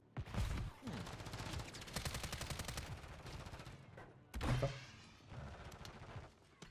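Dense automatic gunfire rattles in Call of Duty, sustained rapid bursts with a heavy thudding impact partway through, loud and close, then more shots trailing off.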